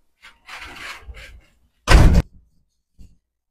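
A house door is opened with a rattling scrape. Moments later it is slammed shut with a loud, close thud, followed by a couple of faint knocks.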